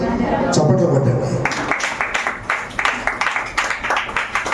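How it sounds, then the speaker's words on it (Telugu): A church congregation at a thanksgiving gathering claps together in a steady rhythmic beat, loud and close, after a preacher's voice gives way to the clapping. "దేవుని చప్పట్లు పడ్డండి"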